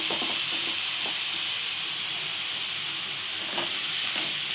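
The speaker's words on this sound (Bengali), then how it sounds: "এটা বাঁধাকপি, শুকনো বাঁধাকপির তরকারি রেসিপি। এটা ভালোভাবে ভেজে নিতে হবে।" Dried cabbage curry fries in a pan with fried potatoes, giving a constant loud hiss and sizzle with occasional soft stirring scrapes throughout.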